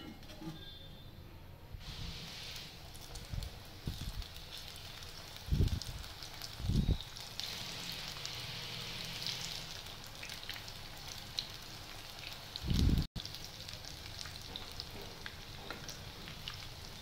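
Spring onion pakodi frying in hot oil makes a steady, close sizzle throughout, broken by a few soft knocks and thumps from stirring or turning the fritters.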